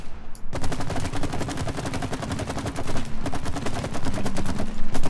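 Rapid, dense bursts of automatic gunfire from a video game shooter run almost without pause, loud and close, with crackling sustained volleys throughout.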